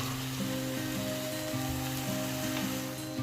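Finely chopped fenugreek leaves frying in hot masala: a constant close sizzle, even and unbroken, with faint background music underneath and no talk.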